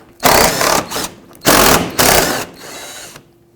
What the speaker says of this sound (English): I'm going to start at the front and remove a few 10mm bolts.